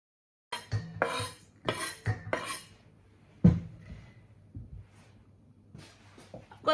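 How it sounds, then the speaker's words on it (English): Knife strikes on a cutting board as parsley leaves are chopped, a handful of sharp close taps in short bursts separated by quiet pauses. "I'm going to pick the leaves off the parsley and chop them up as well."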